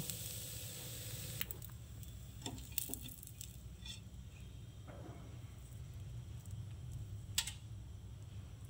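Jali roti, the lacy Bengali net bread, fries quietly in a pan with a faint steady sizzle and a few scattered ticks and pops. There is no talking.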